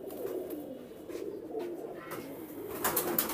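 Pigeons, including a running pair, coo in soft low repeated calls close by, with light rustling and a few faint higher chirps toward the end.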